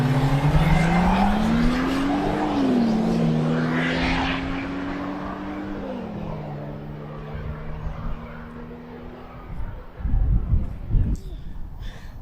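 Porsche and a Skoda estate launching side by side in a drag race, engines rising in pitch through gear changes as they pull away, fading into distant rumble and scattered crowd noise.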